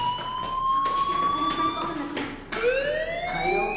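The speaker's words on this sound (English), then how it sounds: "do you hear that fire alarm?" A fire alarm rings in the Life Is Strange video game, a loud, steady electronic tone that holds, then restarts with a rising sweep. It is heard alone, with no talking over it.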